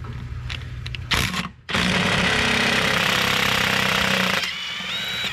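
An impact wrench hammers loudly and continuously at the bracket bolts of a Yamaha outboard, a close, harsh rattling burst that runs for several seconds after a short opening stutter and pause.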